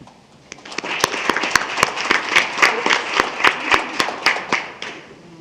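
A small group at a school district board meeting applauds retiring staff, sparse sharp individual claps building into a brief round that swells and then fades out.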